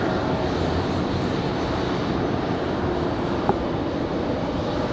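An Air France airliner departs from Raleigh-Durham International Airport, its engines a loud, steady broadband roar that persists throughout without talk.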